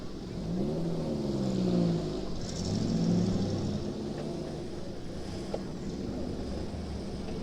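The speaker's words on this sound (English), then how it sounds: "A V8 goodness from the Mark II Stag." The V8 engine of a Mark II Stag classic car on a road run, a deep, rumbling exhaust note that swells twice as it revs and pulls past, then settles into a steady drone at moderate distance.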